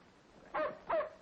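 A dog named Bill gives two sharp, separate barks from outside, heard at a slight distance against a quiet indoor background.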